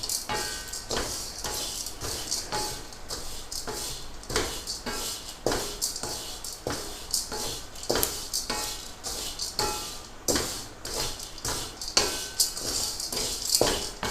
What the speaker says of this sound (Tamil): அப்புறம் தனியாத்தூள், பெருங்காயத்தூள் எல்லாம் சேர்த்து வறுத்துக்கணும்.